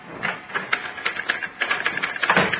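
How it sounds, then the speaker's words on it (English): Typewriter typing as a radio drama sound effect, a steady close clatter of rapid keystrokes with no voices over it. "at her typewriter working on the usual sheet of paper, backed by the usual 4 carbons"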